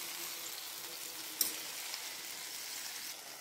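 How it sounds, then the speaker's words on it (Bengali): Vegetables frying in a little oil in a pan while an uttapam cooks. A soft, steady sizzle plays throughout at low level, with one brief click partway through. "সবজি একটু ভাজা ভাজা হয়ে গেলে তারপরে তুলে নেব।"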